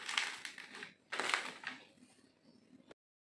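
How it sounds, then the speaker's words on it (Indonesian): A crispy fried egg for telur geprek is smashed in two crunchy bursts of crackling and crumbling, close-up and fairly soft, with a faint rustle trailing off afterward. "Kita geprek dulu, tapi tidak sampai hancur."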